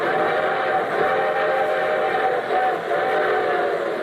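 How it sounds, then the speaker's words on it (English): A train rumbles steadily along with a sustained whistle sounding over it, loud and continuous, performed as a sound effect for an old railroad radio show. "And here comes our star-studded show train."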